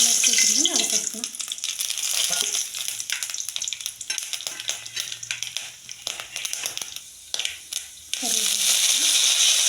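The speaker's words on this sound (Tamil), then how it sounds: "இப்போ தாளிக்க அதை பார்த்துக்கலாம்." Spices temper in two spoons of sesame oil for dried fish curry, crackling and sizzling loudly and continuously with stirring scrapes, while someone talks over it.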